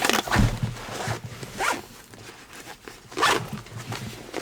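A few quick zipper pulls, each a short bright rasp, spaced about a second apart with quiet handling noise between them.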